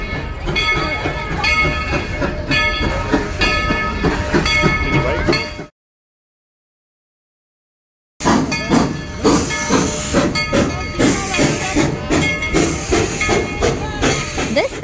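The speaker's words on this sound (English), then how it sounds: "This is a steam train or steam locomotive." A coal-powered steam locomotive chugging loudly with rhythmic puffs and hissing, cutting out to silence for a couple of seconds before the clattering run resumes.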